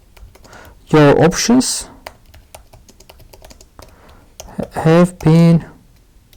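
Light, rapid keystrokes clatter on a computer keyboard during WordPress plugin coding, scattered clicks running under and between bursts of a nearby voice talking.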